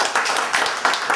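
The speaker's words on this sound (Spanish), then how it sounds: "yo pido un aplauso" An audience applauds a national hero at a Spanish-language gathering, a short burst of dense, close clapping with no pauses.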